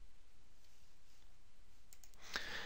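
A computer mouse gives a single sharp click to save a file in SolidWorks drawing software, heard near the end over faint, quiet background hiss.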